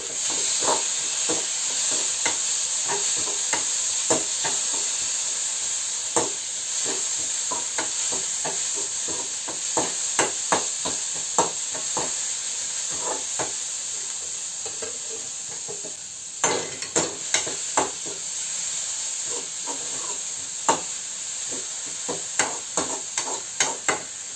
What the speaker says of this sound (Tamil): இப்போ நம்ம அரிஞ்சு வச்சுருக்க தக்காளியை வந்து உள்ளே போட்டுக்கலாம் போட்டு நல்லா வணக்கி விட்டுக்கலாம்